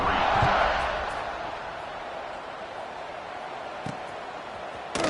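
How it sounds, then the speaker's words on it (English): A football stadium crowd roars before a Clemson kickoff against Duke, the cheer swelling loudly at first and then settling into a broad, sustained rumble. "They're set to kick it off, and this crowd now ready to get behind them"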